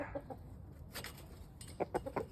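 Rhode Island chickens cluck and squawk in short, uneven bursts close by as they are let out of their coop, several birds calling over one another without any talk.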